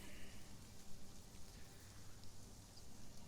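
Steady rain from the Sheltered survival game, a soft continuous patter of drops with no breaks, fairly faint and even throughout.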